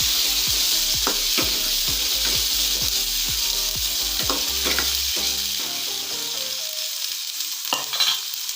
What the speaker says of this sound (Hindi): अब हम चने डालेंगे इसमें, अच्छे से मिक्स करके लेंगे।